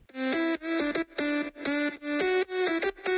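A bounced mono synth lead plays alone as a clear, bright tonal melody of short rhythmic notes with brief gaps between phrases, loud and up front.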